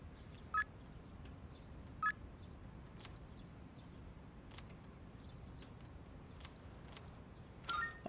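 Short electronic message tones from a phone in the video game Persona 3 Reload, several brief chirps spaced seconds apart over quiet background hiss, the last ones coming in a quicker cluster.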